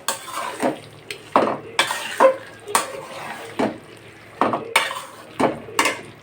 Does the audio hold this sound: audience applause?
no